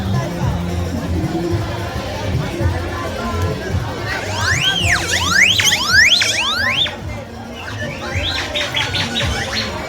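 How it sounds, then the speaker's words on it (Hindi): A crowd at the Ram Barat procession in Farrukhabad makes a dense, continuous murmur of voices, with a high warbling, siren-like tone rising and falling over the babble midway through. "बहुत ही भीड़ भाड़ है।"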